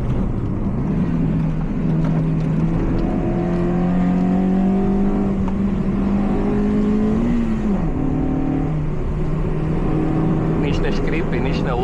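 A Citroën C2 VTS race car drives along a road, its engine note droning and shifting in pitch as it accelerates, heard from inside with a voice talking over it.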